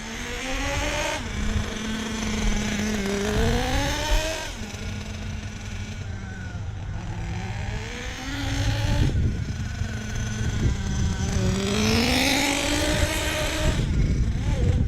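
A nitro Traxxas Savage XL RC truck with a Force .32 engine buzzes at half throttle during break-in, its high whine rising and falling in repeated surges over a low rumble, close and continuous.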